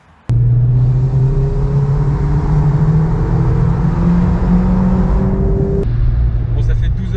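A 2019 Mazda MX-5 ND roadster with 184 hp drives along small winding roads in Alsace toward Colmar. Its engine gives a loud, steady drone that climbs slowly in pitch, then eases briefly near the end.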